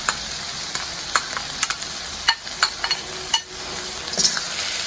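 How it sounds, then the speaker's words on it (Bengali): Chicken and chopped carrot sizzle steadily in a hot pan while a utensil stirs through them, with scraping clicks and knocks breaking over the continuous close frying hiss; no one speaks. "এখন গাজর দিয়ে আবারও মিশিয়ে নেব।"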